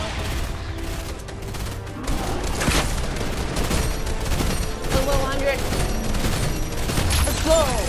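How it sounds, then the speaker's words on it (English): Bursts of gunfire and explosive blasts from a Fortnite match, including rocket launcher fire, crackle and boom densely throughout, loud and chaotic with layered battle effects. "I got a rocket launcher."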